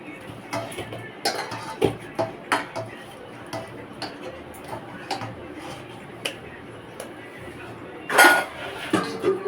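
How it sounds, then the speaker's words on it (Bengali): Soft paratha dough is cut into small portions on a board, giving a run of irregular close clicks and light taps with one louder metallic clink near the end. The background is quiet and no one speaks. "এবার ছোট ছোট করে লেচি কেটে নেবো আমরা।"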